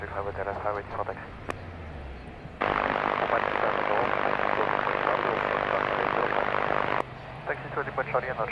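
Airplane engines roaring close by at Madeira Island Airport, a loud broadband jet or propeller rush that jumps in mid-way and holds steady before cutting off, with talk at the start and end.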